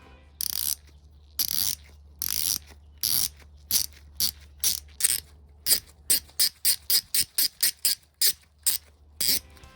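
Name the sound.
ratchet wrench clicking after lubrication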